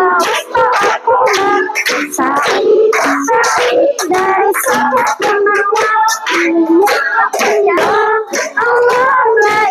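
Children in a classroom clap their hands in rhythm, the claps mixed under loud group singing and chanting that fills the whole stretch.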